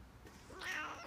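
A house cat meows once in the morning. The meow is close and moderately loud and rises into a drawn-out, slightly strained call near the end.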